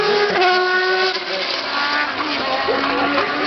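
A classic March Formula 1 race car engine roars at high pitch during a demonstration run, whining steadily as it speeds past, with some tire noise.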